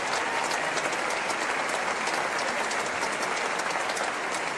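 A theatre audience applauds steadily after a performance, a dense, continuous wash of many hands clapping at full volume throughout with no voices standing out.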